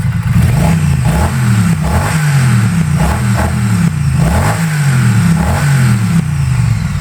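A Triumph Bonneville Street Twin 900cc motorcycle engine runs loud and close, its parallel-twin note rising and falling in steady revving pulses for several seconds with no talk over it.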